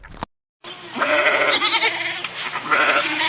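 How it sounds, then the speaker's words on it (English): A goat bleats in a long, loud, wavering cry that carries on continuously at close range, slightly harsh and quavering throughout. "goat,"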